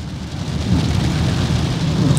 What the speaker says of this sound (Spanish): Voy a dejar esto cortito porque está lloviendo